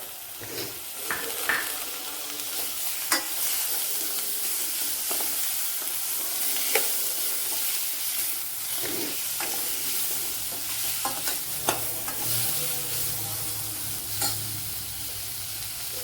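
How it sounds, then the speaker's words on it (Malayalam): A large tomato sizzles in a hot pan for a Kerala-style egg dish, with steady frying hiss and frequent scraping stirs and utensil clinks close by. "ഒരു വലിയൊരു തക്കാളി എടുത്തിട്ടുണ്ട് അത് ഇട്ട് കൊടുക്കുക"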